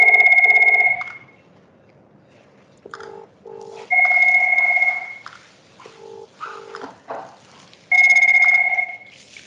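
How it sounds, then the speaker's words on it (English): A hospital telephone rings back after a bleep call, giving three loud electronic ring bursts separated by quieter beeping tones in a quiet room. "MedReg will bleep back to the phone"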